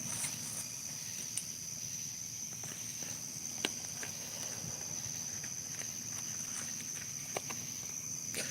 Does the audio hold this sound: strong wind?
no